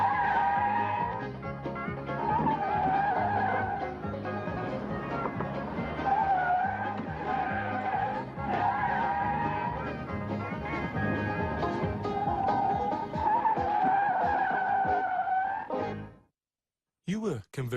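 Cars skidding during a drink-driving experiment, with repeated tire squeals and engine roar over several seconds, loud and close, then a sudden cut to near silence; a voice talks over part of it.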